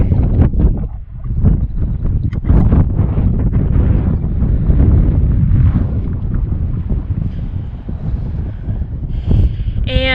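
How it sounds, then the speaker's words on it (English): Strong wind buffets the microphone on a hiking trail in Zion National Park, a loud, continuous low rumble with gusty surges throughout. "if you can hear me over the wind, I'm gonna call it quits here"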